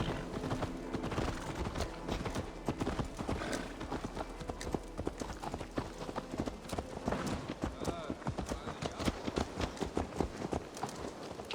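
Horse hooves clip-clop steadily through the Assassin's Creed Valhalla game world, a continuous rhythmic patter of close footfalls running the whole stretch beneath game music and ambient chatter.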